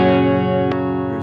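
A Gibson Les Paul Studio Modern with both humbuckers in phase sounds one sustained clean strummed chord through effects, with a soft pick or string noise partway through, short and close.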